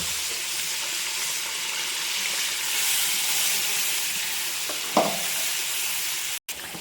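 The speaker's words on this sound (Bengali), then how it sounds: "এবার আমি এখানে ধনে পাতার যে পেস্টটা বানিয়ে রেখেছিলাম সেটা আমি ঢেলে দেব" Coriander leaf paste goes into sizzling spices in a pan for a coriander leaf pickle. A steady, fairly loud hiss of frying carries throughout, with a short splash and spatter near the end and no talking.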